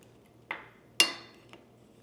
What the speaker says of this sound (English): we're gonna pop open our lid